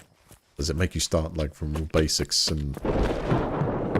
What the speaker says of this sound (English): We got real-time lightning hit strikes now?